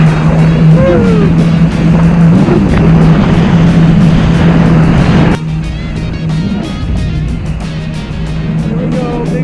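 A jet ski riding across Lake Mead, a loud, close engine roar with rushing water and wind that drops slightly in level partway through as the ride carries on.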